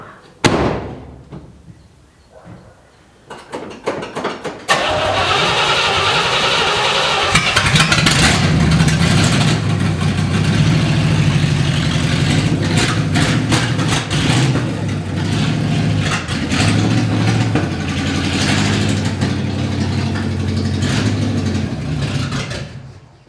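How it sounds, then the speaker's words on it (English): The engine of a 1970 Chevrolet C10 pickup is cranked with a few sputtering attempts, catches and then idles with a steady rumble that runs on for the rest of the clip. "Now it's time to fire the 55 up, back it out"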